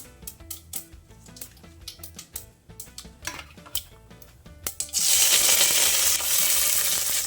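Mustard seeds popping in hot peanut oil with sharp crackles and clinks of a spoon on the pan, then a loud steady hiss as curry leaves, onion and garlic go in, no voices.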